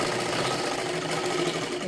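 Electric sewing machine stitching a princess-cut blouse, a steady close mechanical whir with rapid needle rhythm running continuously and alone.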